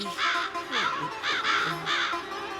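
Several crows cawing in a run of harsh, repeated calls, close and fairly loud, with faint voices underneath.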